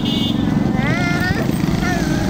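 Motorbike carrying a father and daughter, its engine droning steadily under wind rush while someone talks over the ride.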